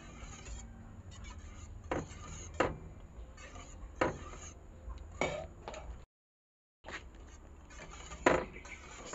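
Condensed milk being stirred into a starch mixture in a pot, with repeated scraping and light clinking of a utensil against the pot in an irregular rhythm and one short silent gap partway through.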